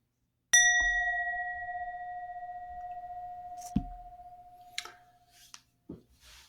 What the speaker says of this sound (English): when you hear a bell, that means start the meditation